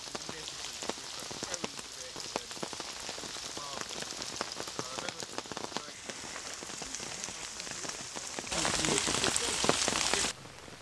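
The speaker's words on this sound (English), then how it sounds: "Yes, yes, it is raining." Rain patters steadily on surfaces outdoors at a shooting party, a dense crackle of drops that grows heavier and louder for a couple of seconds near the end.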